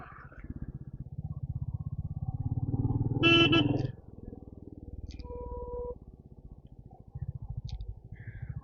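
A Royal Enfield Meteor 350 motorcycle rolls slowly along a road. Its single-cylinder engine thumps steadily and close, a horn blares briefly partway through, and a few faint distant toots sound afterward.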